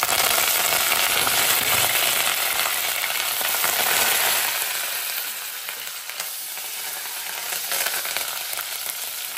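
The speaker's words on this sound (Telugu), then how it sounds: "ఇలా ఆనియన్ గోల్డెన్ బ్రౌన్ కలర్ వచ్చేంత వరకు వేగనివ్వాలి." Onions fry in hot oil with mustard seeds, cumin, dry red chillies and curry leaves for a masala gravy, giving a steady, close, loud sizzle with faint stirring that eases slightly toward the end, with no talking.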